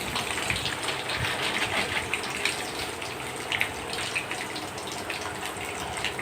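Mustard seeds, urad dal, ginger and garlic sizzle in hot oil for thuthuvalai chutney, giving a dense, continuous hiss close by with small crackles throughout.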